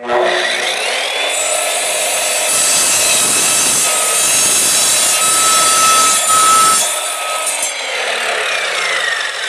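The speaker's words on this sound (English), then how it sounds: "Now you're going to see that this blade is still going to be cutting wood even though it's cut through nails and screws." An Evolution Rage3 sliding miter saw spins up with a high whine, then rasps loudly through wood that holds nails and screws for several seconds before winding down. The sound is close and continuous, with no talking.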